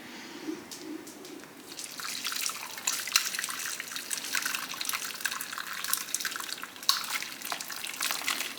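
Boiled liquid poured through a strainer in a home kitchen while preparing Christmas crafts, a steady splashing trickle with scattered drips, moderately close and continuous for several seconds.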